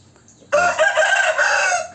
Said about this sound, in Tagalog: Yan po ang aking mga Shamo asil.